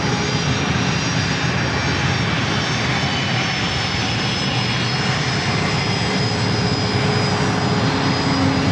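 A WestJet airliner's engines roar steadily and loudly at San Diego airport, a continuous broadband jet rumble with a faint high whine and no talk.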